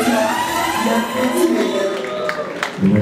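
Wedding guests at a customary wedding celebration cheer and applaud the bride, a lively crowd roar with shouts and ululating voices mixed with clapping, sustained and fairly loud.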